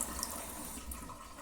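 Water runs steadily from a tap to wet a shaving brush before lathering, a continuous close hiss of flowing water filling the short moment alone.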